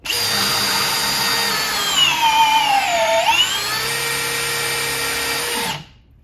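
A Ridgid power drill runs at speed 2, its high whine rising and dipping briefly as it bites into the material, then holding steady before cutting off abruptly, loud and close.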